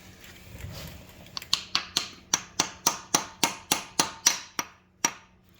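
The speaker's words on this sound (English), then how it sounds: "Tap it with that hammer." A hammer taps a pilot bushing into place in a steady run of about a dozen sharp, ringing metal strikes, close by, with a brief pause before the last hit.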